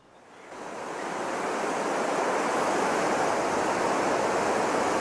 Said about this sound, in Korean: 나야가라 폭포를 보십시오.